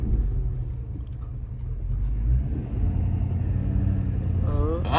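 A Ford F-250 pickup truck engine rumbles loudly and steadily as it pulls out, rising slightly in effort toward the end, with a brief higher whine near the finish.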